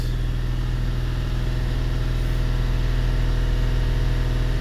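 2008 Lincoln MKX engine with an injector driver fault, running at a raised idle with a steady, even drone and a fine pulsing rhythm, heard close up and alone.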